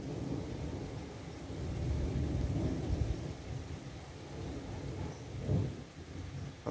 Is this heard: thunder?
yes